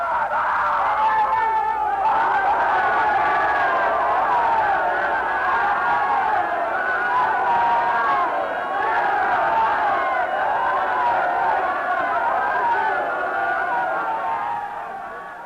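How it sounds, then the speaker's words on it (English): A large crowd shouts and roars in unison, a sustained, loud mass of voices demanding crucifixion that carries on steadily throughout. "And the crowd shouts, "Crucify him.""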